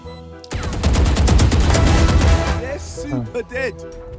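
A rapid burst of gunfire in the game Valorant crackles for about two seconds, then a voice speaks briefly as the shooting stops.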